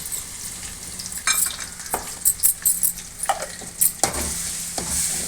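Ginger-garlic paste sautés in a pan for mushroom gravy, with a steady sizzle close by. A spoon stirs and scrapes against the pan in repeated short strokes.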